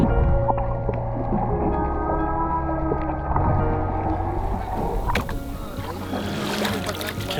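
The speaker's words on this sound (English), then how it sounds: "Can't believe I'm this close to a whale." A whale surfaces near a small boat at sea, giving long low tonal moans and a rushing burst of spray partway through, heard close over a constant engine or wind rumble.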